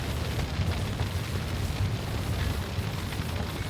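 An explosion in the game The Lamplighters League, a dense sustained rumbling blast with heavy low-end roar and no distinct onset, holding steady throughout without speech.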